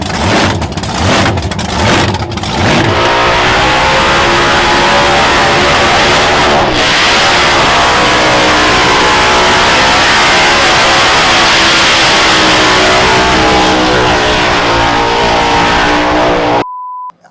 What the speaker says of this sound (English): I just love skidding, you know what I mean?